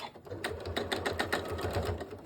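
A sewing machine stitches across the corner of a fabric key fob in a quick, rhythmic run of close, mechanical clatter that holds a steady pace.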